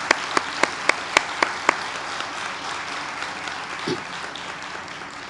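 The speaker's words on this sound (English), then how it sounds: "So let's give you guys an applause." A graduation audience applauds in a hall, with scattered loud individual claps standing out at first over a steady wash of clapping that carries on evenly to the end.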